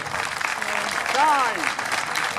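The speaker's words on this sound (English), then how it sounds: "A round of applause there for Kim." Outdoor crowd at a Highland Games event claps for a woman competitor in a strength event, a steady, moderate patter with a brief whistle or voice rising in the middle.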